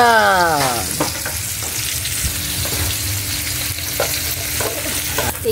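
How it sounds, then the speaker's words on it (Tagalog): Paksiw na isda, fish in a pot, bubbles and sizzles loudly at close range, with a few sharp clinks and scrapes of stirring over a continuous hiss. "Kumukulo na po siya."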